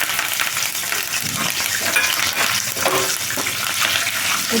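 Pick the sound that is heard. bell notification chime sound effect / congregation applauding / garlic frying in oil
garlic frying in oil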